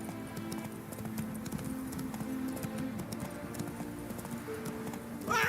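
Hooves of the horse Roach in The Witcher video game clip-clopping in a steady walking rhythm, fairly quiet against ambient game sound, with a brief louder burst at the end.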